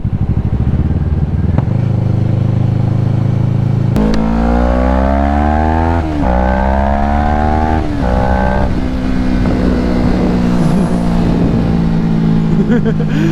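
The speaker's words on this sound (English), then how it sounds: "Time to rev bomb." Car engine revving hard in a rev bomb, loud and close, with repeated rising pitch sweeps as the revs climb, drop and climb again, then settling to a high steady drone near the end.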